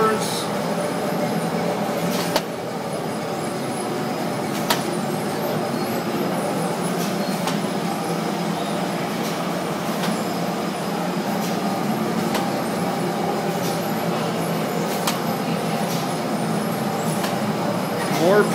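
A Phoenicia pita bread production line runs dough through its rollers with a steady mechanical hum and rumble, punctuated by occasional sharp clicks at regular intervals.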